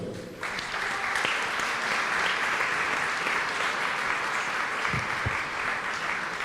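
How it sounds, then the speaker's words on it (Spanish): An audience at a talk on traditional midwives and health inequality breaks into loud, continuous applause that holds steady for several seconds and fills the room. "Un fuerte aplauso."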